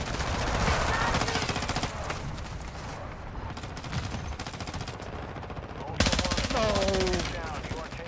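Rapid machine gun bursts crackle and rattle almost continuously in the video game DMZ, loud and close, with brief lulls and a fresh burst of fire; a voice speaks briefly amid the shooting.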